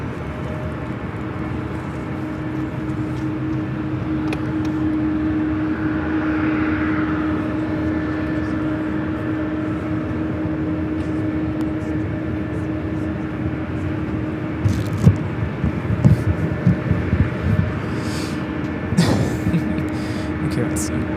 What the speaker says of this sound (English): Next takeoff is flight heading to Boston, Delta Connection in